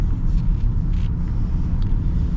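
Inside a 2026 Hyundai Ioniq 9 electric SUV on the move, a steady low road rumble and soft tire hum continue with only faint higher swishes, no talk.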